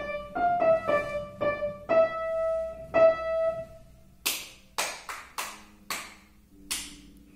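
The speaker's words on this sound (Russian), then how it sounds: "Сначала я сыграю, а ты ладошками прохлопаешь." A piano plays a short run of sustained notes in a music-school lesson, then stops, and a child's hands clap about six sharp, separate claps alone in the quiet that follows.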